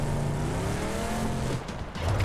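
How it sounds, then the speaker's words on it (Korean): A car engine droning steadily in a video game, a shooter match, with a continuous loud motor hum and some tire noise rising near the end. "분명히 방금 내 차 소리 들었는데"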